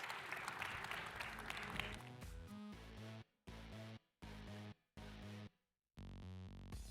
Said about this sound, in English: A round of applause for Mark, Brad, and Amy, please